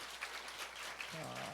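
Congregation applause at a church service, a steady hiss of many hands clapping, moderately loud, before a voice starts speaking over it near the end.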